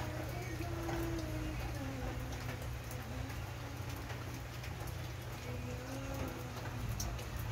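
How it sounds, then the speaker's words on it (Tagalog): Steady rain pours down during a thunderstorm, a dense continuous hiss of drops on surfaces close by, with a faint voice talking underneath. "Ulan mga idol, ulan. Unang gisabayan og dalugdog."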